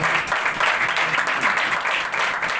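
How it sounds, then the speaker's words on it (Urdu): A church congregation claps during an Urdu/Hindi Pentecost sermon, a dense, steady wash of applause that stays loud throughout with little variation. "زوردار تالیوں سے خدا کے نام کو جلال دیں گے"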